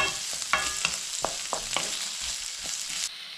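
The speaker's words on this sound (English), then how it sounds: "we're going to put these in, give it a damn good stirring around" Onions and mushrooms stirred around a hot pan over medium heat, a constant sizzling hiss with repeated scrapes and taps of the spoon, close and fairly loud until the sizzle drops at the end.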